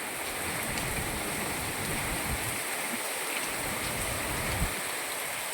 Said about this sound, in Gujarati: પવન વધી ગયો, નેવામાંથી પાણી ઉડે છે અત્યારે, ફૂંકકારી બોલે છે